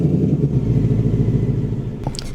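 A car engine in a Roblox driving game settles into a low, throbbing idle with a steady pulsing beat, loud and close, ending with a short clicky blip.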